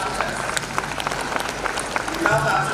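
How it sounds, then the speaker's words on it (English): Graduation ceremony audience clapping for their teachers, a dense steady patter of many hands filling the hall, with some voices mixed in near the end. "Come on, let's clap our teachers."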